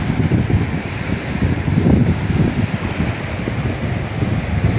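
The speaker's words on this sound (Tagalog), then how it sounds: "Kusog na kaadyo ag bawod" Strong monsoon wind and ocean waves make a continuous roar. Gusts buffet the microphone over a steady wash of surf, with no talking.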